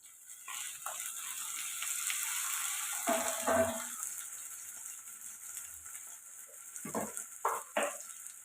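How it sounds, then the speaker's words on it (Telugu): Tomato pieces added to onion and ginger-garlic paste frying for egg curry, a soft sizzle with a louder burst as the pieces land, then quiet stretches broken by a few stirring clatters of spoon on pan. "ఇప్పుడు కట్ చేసి పెట్టుకొని టమాటా ముక్కలు వేసాం"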